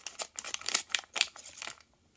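Plastic packaging of a Disney mystery pin set being torn and crinkled open by hand, a quick run of close, sharp crackling bursts that trails off into quiet.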